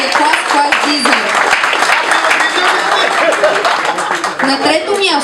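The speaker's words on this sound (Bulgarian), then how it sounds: "Нека ги съпроводим с едни бурни аплодисменти" Dense, stormy applause from an audience at an awards ceremony fills the whole stretch, loud and steady, with a few voices calling out above the clapping.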